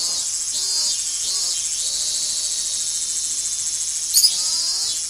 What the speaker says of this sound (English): Outside, it was still early enough for the cicadas to be crying.